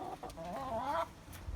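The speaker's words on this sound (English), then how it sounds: "And the chickens are mad." Agitated chickens clucking close by, a short burst of rising, wavering hen calls lasting about a second, followed by quieter rustling, with no speech.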